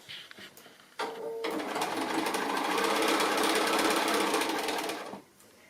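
A sewing machine stitches all the way around a simple square pin cushion, a loud, even whirring run of about four seconds that starts abruptly and stops cleanly, with quiet handling sounds before and after.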